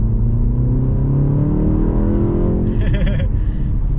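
A BMW M135 pulls hard at full throttle on a damp road, its engine note rising steadily in pitch as it accelerates, loud and close from inside the cabin, with a brief higher whine near the end.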